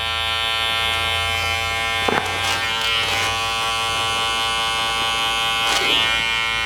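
Electric hair clippers buzz steadily and close while cutting hair in a barbershop skin fade, with a few brief swishes as the blade moves through the hair.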